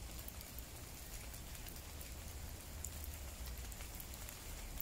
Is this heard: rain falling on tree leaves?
yes